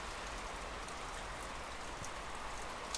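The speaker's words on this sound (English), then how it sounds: "We have now officially entered the rainy season here in Hawaii." Steady rain falls on the Big Island of Hawaii during the rainy season, a constant even hiss of drops on surfaces with occasional louder nearby drips, and no voices.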